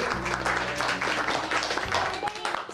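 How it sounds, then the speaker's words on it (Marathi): Steady applause from a studio audience on a Marathi TV show fills the clip, dense clapping with some voices and music mixed underneath. "जोरदार टाळ्या आजीसाठी"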